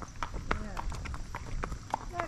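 Hooves of a horse being ridden clip-clop in a steady, close rhythm, with people chatting over them throughout.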